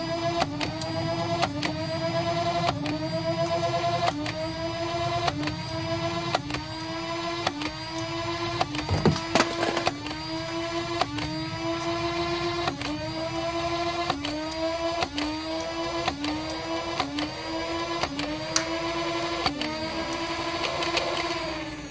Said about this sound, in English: I'm going to make sure I've got full rev up before I hit each shot.